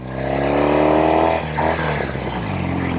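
Norton Commando 850 Roadster motorcycle engine pulling hard through the gears, a loud, close throbbing roar that climbs in pitch, drops briefly at a shift around the middle, then rises again.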